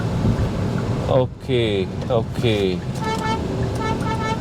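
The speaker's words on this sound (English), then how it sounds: "Let's give full throttle." A Hyundai Exter engine revs hard at full throttle with rising whines as it climbs through the gears, interrupted by brief gaps at the shifts, with someone speaking briefly over the engine noise.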